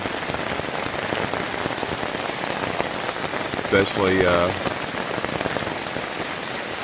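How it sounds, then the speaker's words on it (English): Heavy rain pours onto a tarp shelter in the middle of the night, a loud, steady, dense drumming hiss that never lets up, with one brief spoken word partway through. "it's pouring down rain"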